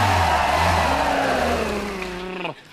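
A brand new motor car engine revs loudly and steadily, its pitch sliding down over a couple of seconds before cutting off abruptly, heard up close and alone.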